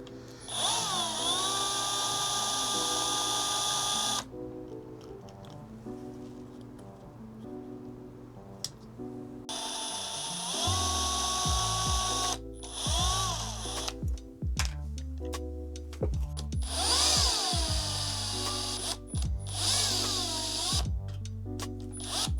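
A small electric power tool whirs in bursts while removing the rear bumper from a Rlaarlo Omni Terminator S2 RC car, its whine rising and falling, with clicks and handling clatter between runs.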